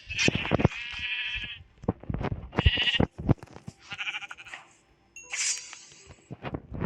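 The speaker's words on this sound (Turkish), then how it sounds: "İlk önce koyunumuzu kestik hemen." Repeated loud sheep bleats in Minecraft, several in quick succession, close and nasal, with short quiet gaps in between.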